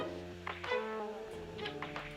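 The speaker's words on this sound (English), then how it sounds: "in this case I picked the strings that were short, and sounds like this" Short staccato strings from the Labs instrument plugin, a few quiet plucked-sounding bowed notes in a brief soft phrase, heard alone.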